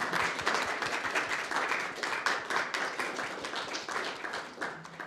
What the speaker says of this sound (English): I think Finn needs his own round of applause, actually.